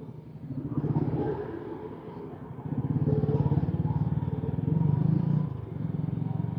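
An 80-volt battery-powered electric motorcycle runs nearby with a low, steady motor hum and rattling clatter that rises and falls in intensity.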